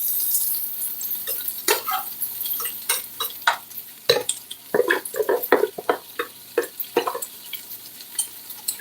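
Chunky slices of orange, yellow and red bell peppers sizzle in a pan, stirred with a run of close, uneven scrapes and clacks over a soft frying hiss.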